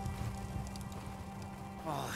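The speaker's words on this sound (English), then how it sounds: "Hail." Hail pours down in the video game The Fidelio Incident, a steady dense patter like rain on a surface, heard over a soft tonal game backdrop.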